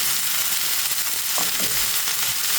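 Chopped portobello mushrooms fry in a pan with a steady, close broadband sizzle, broken by a few soft scrapes of a spoon stirring. No one speaks.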